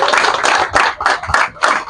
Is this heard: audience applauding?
yes